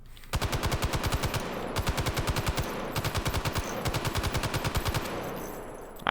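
An M60 general purpose machine gun firing in Hot Dogs, Horseshoes and Hand Grenades, loud and close: four sustained bursts of evenly spaced rapid shots with brief pauses between them, ending just before six seconds.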